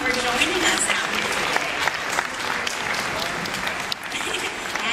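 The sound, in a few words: audience applause at aquarium show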